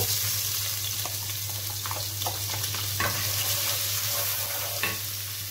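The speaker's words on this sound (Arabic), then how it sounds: "هبدا اشوح البصلايه بتاعتي كده على النار لما تاخد لون" Steady sizzling of onion sautéing in oil in a pan, with occasional scraping and stirring clicks, close and continuous without any talking.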